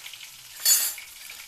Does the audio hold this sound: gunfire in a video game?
no